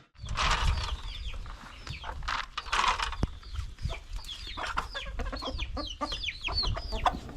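Several chickens cluck and chatter close by while being fed, with busy pecking and scratching noises in between the calls.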